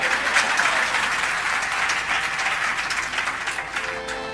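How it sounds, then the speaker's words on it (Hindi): Clapping from the audience at a live Shri Ram Katha religious storytelling event, a steady wash of many hands at moderate loudness lasting several seconds and tapering gently, with a faint tonal hum near the end. "एक बार इनके लिए ताली बजाइए।"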